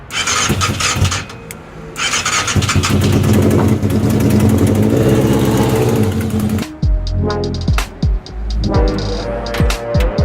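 A motorbike engine fitted in a van roars loudly as it warms up, with a stuck clutch. The engine revs hard and steady for several seconds, then drops to a sputtering, uneven idle with popping bursts.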